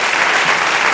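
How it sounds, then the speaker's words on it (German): Loud, dense applause from an audience for a performing duo at a German-language stage show, a brief continuous burst of many hands clapping close by. "Meine Damen und Herren, wir sagen fürs Duo Galva einen Applaus"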